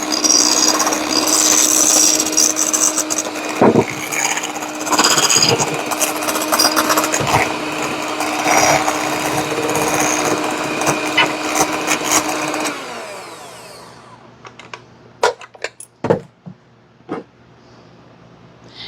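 An electric hand mixer whirs steadily while beating cream cheese until smooth for a cream cheese Danish bake, running loud and continuous before cutting off, followed by a few scattered clicks and taps of bowl handling.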